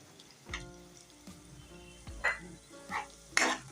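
Chopped green chillies are tipped into onions frying in a pan for a Kathiyawadi dahi bhindi curry, making a soft sizzle broken by several brief, quiet stirring clinks and scrapes.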